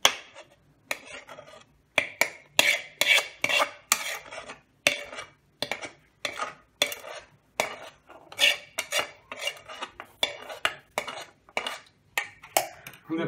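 Puffed rice being stirred into jaggery syrup in a pot with a metal spoon while making karthigai pori urundai, a steady rhythm of scraping, rattling clinks against the pot that carries on throughout.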